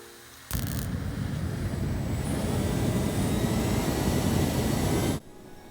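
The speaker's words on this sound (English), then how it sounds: "that oxygen-rich fuel can burn a bright blue, resulting in extra thrust for an EDF" An electric ducted fan fitted with a butane afterburner bursts into a loud, roaring whoosh, holds at full blast for about five seconds, then cuts off abruptly.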